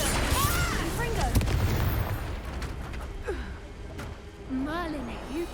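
Confringo fire-spell blasts in Hogwarts Legacy, rumbling explosive bursts and crackling impacts from combat, loud and layered under shouted character voices and grunts.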